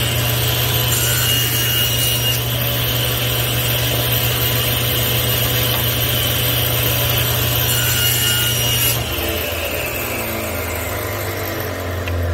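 A saw cuts a wooden tenon guided against a fence, a loud continuous whining cut with a steady hum that shifts and winds down near the end, no speech.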